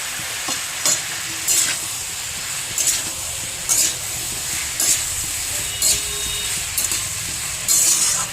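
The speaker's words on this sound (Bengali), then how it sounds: "আদার কাঁচা গন্ধটা কেটে যাবে, ততক্ষণ একটু নাড়াচাড়া করবো" Ginger paste fries in a pan under a constant low sizzle, with a spatula scraping and stirring in regular strokes roughly once a second, close and clear.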